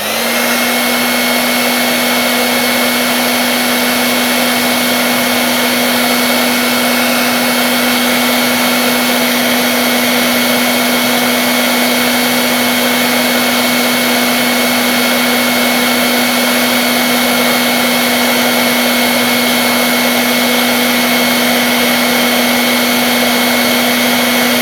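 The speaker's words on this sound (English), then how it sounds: "So now I will blow again some hot air." A hot air blower runs continuously while heating a nickel zinc battery, a loud, steady whooshing roar with a constant motor hum throughout.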